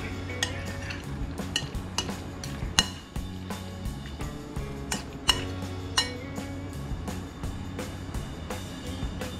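Raw yellowfin tuna being stirred together with sauce and seasoning in a bowl, with repeated utensil clinks and scrapes against the dish in an irregular rhythm, close up and without talk.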